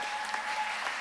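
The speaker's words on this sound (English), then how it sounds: "Everyone give Bella a round of applause." Brief burst of audience applause at a high school spring band concert, a short, even patter of many hands, moderately loud and steady.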